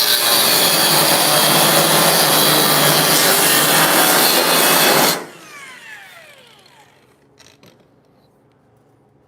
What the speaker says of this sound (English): I was gonna cut this tack weld.